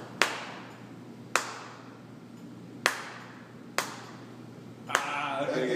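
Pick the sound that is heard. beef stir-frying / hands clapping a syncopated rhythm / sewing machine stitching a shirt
hands clapping a syncopated rhythm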